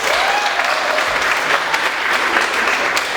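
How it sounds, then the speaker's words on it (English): A dense, sustained round of applause from a crowd of women being honoured at an International Women's Day workers' awards gathering fills the space loudly and evenly from start to finish. "Can you please clap for yourself?"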